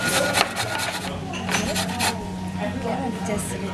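Jamu ingredients are grated by hand at a workshop in Bali, with rough rasping strokes repeating close by under people talking.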